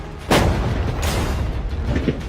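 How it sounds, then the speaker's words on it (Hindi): A gunshot fired at a container in a large-prize challenge stunt cracks out sharply and loudly, followed by a second blast about a second later, both ringing over a dense, rumbling background. "पहले बाकी शॉट्स फायर कर लेते हैं"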